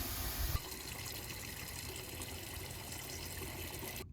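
Water runs steadily through a Truma Aqua Go water heater in a campervan during decalcification, a constant hissing gush that cuts off abruptly at the end.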